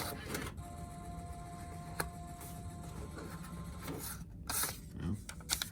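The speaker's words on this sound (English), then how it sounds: "to see if our printer is working" A Genmega Hantle ATM receipt printer runs off a cassette total slip, a buzzing mechanical print run with a steady whine and a few sharp clicks and a tearing sound near the end, no talking.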